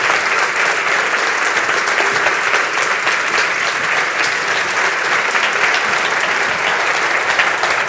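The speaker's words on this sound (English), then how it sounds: "So I'd like you to give a big applause to Bill Whelan." A large audience gives loud, sustained applause to a composer at a morning event, a thick, even roar of clapping that holds steady for the whole stretch without any voices breaking through.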